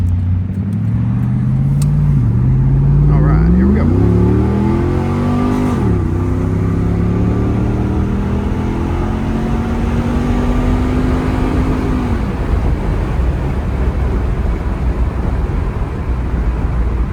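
A 1999 Pontiac Firebird Trans Am WS6 with an LS1 V8 accelerates hard up through several gears, pitch rising with each shift, then settles into a steady droning cruise.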